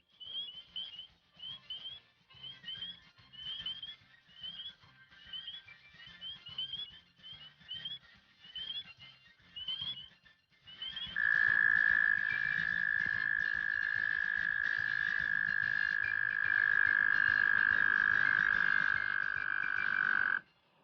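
Frogs call in a rhythmic, chirping chorus of repeated croaks for about ten seconds, then a loud, steady trilling drone takes over and holds until the end, with no voices present.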